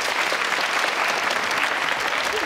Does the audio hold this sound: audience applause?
yes